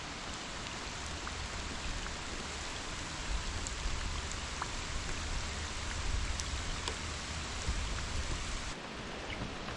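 Steady rain pattering on an open lake during a storm, a dense hiss with scattered drop ticks, constant and close, with no voices.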